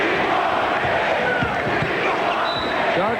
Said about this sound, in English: Crowd chanting, "We want Nick."